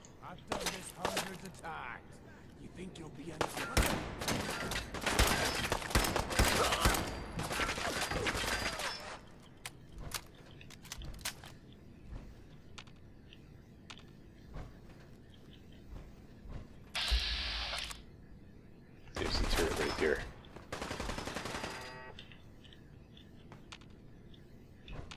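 Gunfire in the video game Fallout 4, with dense bursts of shots and impacts early on, then scattered shots and a couple of louder bursts later, mixed with game sounds and a person talking.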